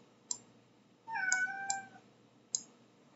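A cat gives a single drawn-out meow, clear and fairly close, with a few sharp clicks around it in an otherwise quiet room.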